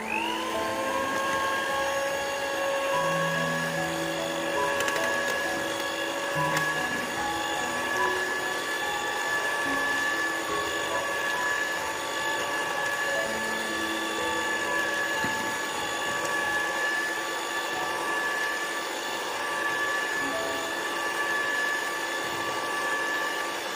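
An electric mixer beats a strawberry ice cream mixture for eggless, no-machine ice cream with condensed milk, a steady whirring motor hum with stable high harmonics running loud and continuously throughout, with no talking.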